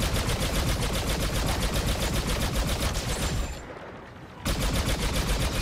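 Continuous rapid-fire blaster gunfire from a weapon in Star Wars Battlefront 2, loud and dense for several seconds, briefly dropping away before the burst resumes.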